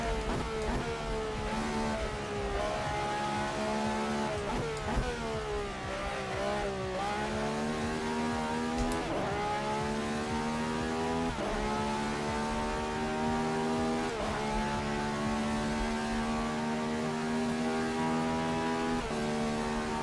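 A race car engine in a sim racing game revs and drones steadily, rising and dropping in pitch through repeated shifts, loud and continuous with no talk.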